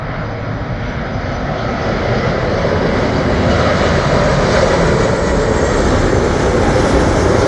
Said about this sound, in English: Airbus A330 Air Canada.